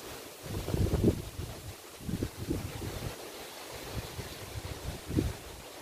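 Wind gusting outdoors against the microphone in an apple-growing area, low rumbling buffets that swell and drop in irregular bursts, fairly faint overall.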